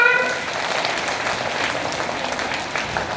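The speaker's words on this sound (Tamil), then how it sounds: "எல்லாம் கைத்தட்டுங்க" An audience claps after a school skit, a steady wash of applause at moderate loudness that fades slightly, with a faint high voice briefly heard at the start.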